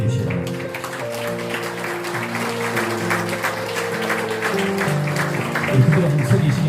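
A church congregation gives sustained warm applause at a board chair inauguration and thanksgiving service, steady clapping filling the room under music and voices.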